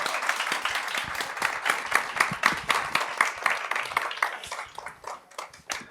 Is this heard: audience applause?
yes